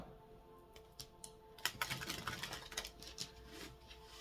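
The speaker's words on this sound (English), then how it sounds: "that's 3 shuffles happening here." Soft, faint tarot card shuffling with light pattering flicks, a few scattered taps at first, then a denser riffle that trails off.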